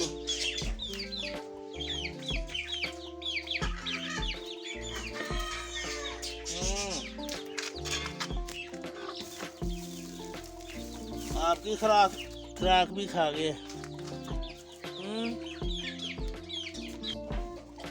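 Chickens cluck and squawk continuously around a person speaking nearby, with occasional louder bursts from the birds.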